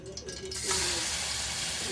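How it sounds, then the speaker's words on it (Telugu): Raw prawns coated in turmeric hit hot oil, and a loud, steady sizzling hiss swells and fills the pan after a quieter opening with faint voices. The spitting, broadband frying continues unbroken to the end. "తర్వాత మళ్ళీ పసుపు వేసి నేను కొంచెం ఆయిల్ వేసి ఫ్రై చేస్తున్నానండి"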